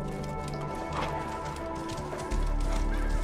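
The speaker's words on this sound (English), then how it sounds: "I can call my horsey." A called horse in the video game Assassin's Creed Origins: a short whinny, then a steady run of hoofbeats and game ambience over a low rumble, no talking.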